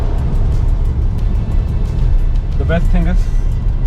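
Skoda Kushaq 1.5 MT manual car cruising on a highway at steady speed, a constant low road and engine rumble filling the cabin beneath someone talking.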